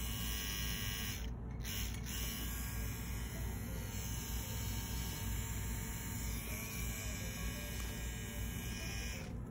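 A very small tattoo machine with a smooth motor runs steadily, a continuous high electric buzz and hum held close and fairly quiet, with no talking.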